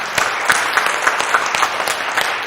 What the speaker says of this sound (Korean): 박수로 우리 격려하겠습니다.